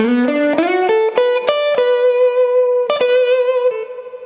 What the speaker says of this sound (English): an octave of what we did in lick number 1 with a little tag on the end